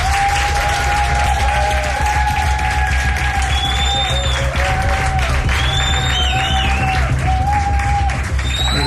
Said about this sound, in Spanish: Os pido un aplauso para que se sienta que estamos ahí.